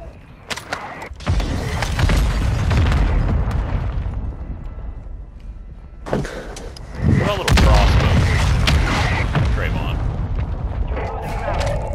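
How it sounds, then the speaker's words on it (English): Mortar strike in a shooter video game: two long bursts of heavy, rumbling explosions and booming impacts, loud and close, separated by a quieter gap, with voices speaking over parts of it. "Our mortar strike is inbound."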